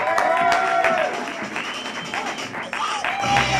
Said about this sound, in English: A big round of applause for Lucky Deluxe